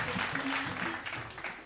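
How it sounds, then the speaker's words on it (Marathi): Crowd clapping at a Mangala Gaur stage event in Mumbai, with a sustained burst of hands from the audience that is loud at first and then gradually thins and fades. "जोरदार टाळ्या"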